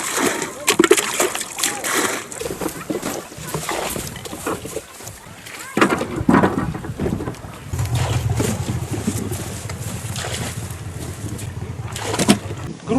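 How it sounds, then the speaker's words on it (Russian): Water splashes and sloshes as it is scooped and tipped out of a rowboat in repeated bailing strokes, close by, under almost constant talking between two people. "полчаса отчерпывать надо будет"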